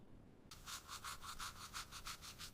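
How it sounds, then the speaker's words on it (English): Teeth are brushed with a toothbrush in a steady rhythm of quick scrubbing strokes, close and fairly quiet, starting abruptly after a brief hush. "I brush my teeth."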